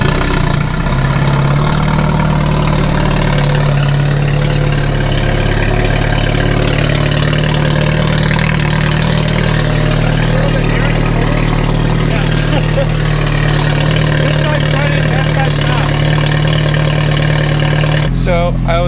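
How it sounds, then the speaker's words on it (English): A Ferrari engine idles loudly and close, with a steady low rumble that holds evenly for the whole stretch and only breaks off near the end. "we're gonna try starting this thing up and see what it sounds like"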